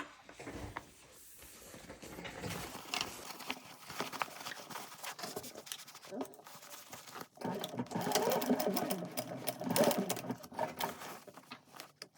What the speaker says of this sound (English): I'm just going to do another row of stitches right here.